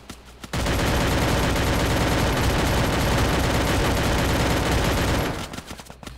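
Dense, loud automatic gunfire rattles nonstop for about five seconds in the mobile shooter game Free Fire, cutting off abruptly into a few scattered clicks.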